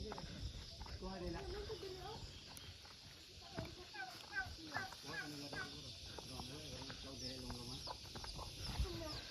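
Hens clucking on a small organic farm in the countryside, repeated short clucks and calls scattered through the clip while people talk nearby.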